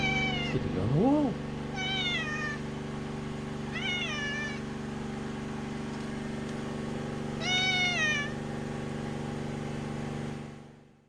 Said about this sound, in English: Hello, kitty cat. Sitting on the wall.